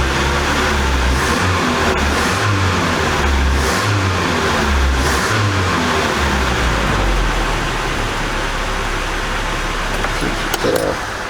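A 1982 Nissan 720 King Cab truck engine, pulled from abandoned storage, idles steadily with a low rhythmic throb and a brief rev near the end, loud and close throughout, with a battery warning light on and a suspected alternator fault.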